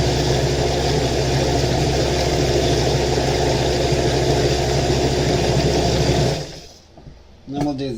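A blender whirs loudly and steadily as it purees cooked pumpkin, a constant motor drone that cuts off near the end, followed by a brief voice.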